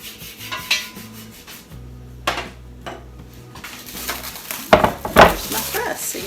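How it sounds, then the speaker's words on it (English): Melted butter is mixed and brushed onto cast iron pizza pans, producing light clinks, scrapes and brushing rubs on metal in an irregular rhythm, with a few sharper knocks. "I'm going to take my butter and I'm going to mix it really well, and I'm going to brush all over my pizza pans."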